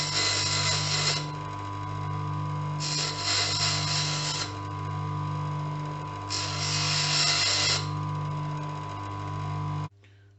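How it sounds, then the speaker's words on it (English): Bench grinder dressing down leftover weld beads on a steel oscillating multi-tool blade carrier, a steady motor hum broken by three bursts of harsh grinding as metal meets the wheel, then the motor cuts off at the end. "the remnants of these welds here, I'll just tidy them up on the bench grinder."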